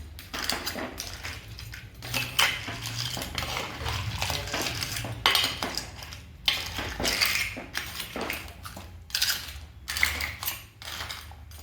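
Ladle stirring crab gravy in a metal pot, scraping and clinking continuously against the sides with rhythmic bursts, close and fairly loud, no speech.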